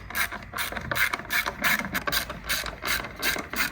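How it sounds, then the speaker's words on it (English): A ratchet wrench with a 10mm socket clicks through repeated strokes on battery bracket bolts of a Mazda 6 2.2 Skyactiv diesel, about a dozen quick close pawl bursts at an even rhythm, with no voices. "use a 10mm hex socket, undo the bolts on the bracket"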